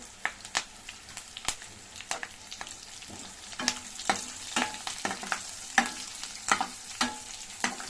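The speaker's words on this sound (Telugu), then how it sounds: "ఆనియన్ చూడండి బాగా వేగినాయి" Onions fry in a pan for a tomato curry, a soft sizzle punctuated by frequent sharp scraping and clinking stirring strokes of a utensil, close up with no talking.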